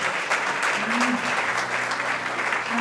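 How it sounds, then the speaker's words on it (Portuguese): A church congregation claps together in a dense, steady burst of applause, close and loud, with a few voices calling out over it. "Aplauda o Senhor em nome de Jesus"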